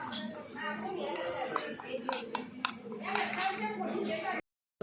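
Spice masala being stirred into a bowl for crispy semolina papdi gives soft clinks and scrapes of a spoon against the dish, close and irregular, under a person talking, then a brief silence.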